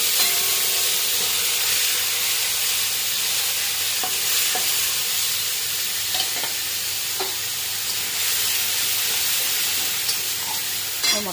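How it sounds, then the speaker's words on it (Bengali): Spices with cumin, mustard seed, green chili, salt and turmeric frying in hot oil in a pan, a steady loud sizzle with occasional stirring scrapes, no talk. "মশলাটা একটু কষিয়ে নেব"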